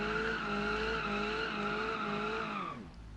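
A kei car with an inline four-cylinder doing a burnout in BeamNG.drive, tires squealing in a sustained loud howl over the revving engine for nearly three seconds before the squeal drops away and fades.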